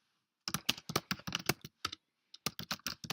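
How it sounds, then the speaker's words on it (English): Fingers type on a computer keyboard in quick bursts of close, crisp key clicks, with a short pause midway before the tapping resumes. "For example, typing something or anything here."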